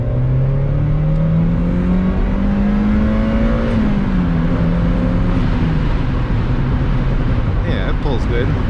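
A Mazda Miata with a swapped J-series V6 accelerates from inside the car, its engine note rising steadily through the gear, dipping briefly, then pulling again, loud and continuous with faint talk underneath.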